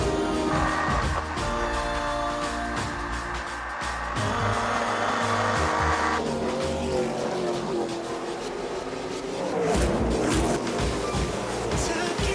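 Race cars roaring around a track during a drag racing series event, engines droning and shifting pitch as they pass, with a French commentator talking over the steady mechanical noise.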